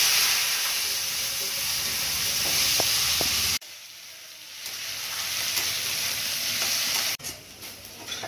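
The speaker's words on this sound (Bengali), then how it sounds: "আলু পেঁয়াজটা ভালো করে কষিয়ে নিয়েছি, সুন্দর করে ভাজা ভাজা করে নিয়েছি।" Chopped potatoes and onions fry in a pan as the base for a prawn curry, a steady loud sizzle broken by sharp clanks and stirring, with the hiss dropping and recovering as the food is tossed.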